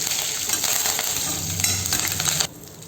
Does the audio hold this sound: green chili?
yes